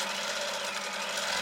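A sewing machine stitches through thick, layered fabric on a smocked vest top, its motor and needle producing a loud, continuous, even mechanical whir from start to end.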